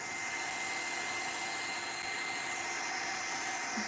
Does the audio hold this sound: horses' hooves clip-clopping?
no